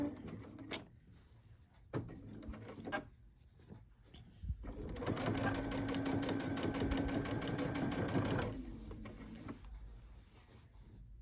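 A sewing machine back stitches quilt binding along the edge of a blanket, running in one loud steady burst of rapid mechanical stitching for about three seconds, with a few soft clicks and handling bumps before and after.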